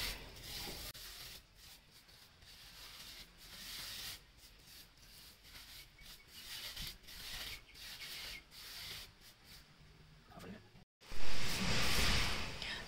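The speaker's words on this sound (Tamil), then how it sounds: "ஜஸ்ட் வந்து நம்ம ஒரு ஓட்டு ஓட்டி இது மாதிரி நம்ம நிலத்தோடு வச்சு தேய்ச்சோம்" Seeds rubbed against the soil by hand to split them for a terrace garden: steady dry scraping and grinding close up, rising and falling in rough strokes, with a brief cutout near the end.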